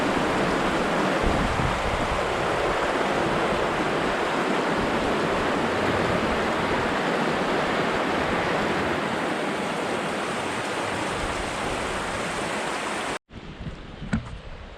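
Rushing river rapids flowing out of Moose Lake under a small bridge in a national forest, a steady broadband roar that holds throughout before cutting off abruptly near the end to a quieter background with faint knocks.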